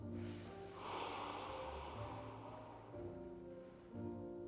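A slow, deep exhale during a stretching exercise for pelvic pain rehabilitation, a soft breathy rush that swells and fades, faint and close over a steady tonal background.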